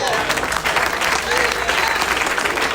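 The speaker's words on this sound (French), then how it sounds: "applaudis les Seigneurs, applaudis les Seigneurs." A congregation at a revival service claps loudly and continuously in a dense, even wash, with voices mixed into the crowd noise.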